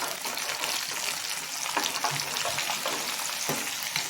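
Chana dal roasts in a pan, giving a soft, continuous sizzle with occasional light stirring scrapes, fairly quiet and close.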